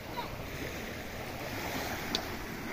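Sea waves wash steadily near a moored boat on the shore of Sibuyan Island in the late afternoon, a continuous broadband wash with a faint splash near the end, fairly soft and without voices.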